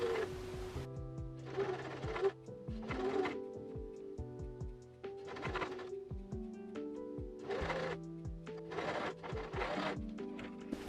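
A sewing machine stitches down the gathers of a cotton milkmaid dress in a series of quick whirring runs with brief pauses between bursts, close and clear.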